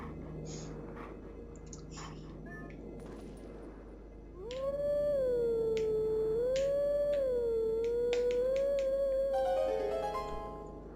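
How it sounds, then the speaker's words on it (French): A golden wolf in the video game Zelda: Twilight Princess lets out a long, wavering, tonal howl that rises and bends for several seconds. It follows softer game music and ambience, and there is no talk. "Et nous voici avec le loup doré."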